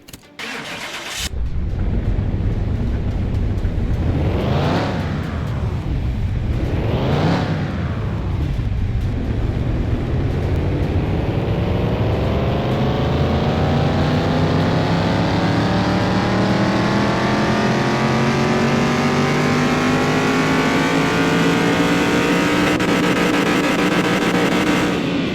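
A car engine in Car Mechanic Simulator 2021 cranks and fires, then revs hard on a dyno, with two quick rises and falls before a long, loud climb that keeps building in pitch.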